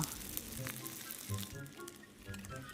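Rice paper wrapped around Spam and rice fries in oil in a pan over medium heat, giving a steady, soft crackling sizzle with scattered pops throughout.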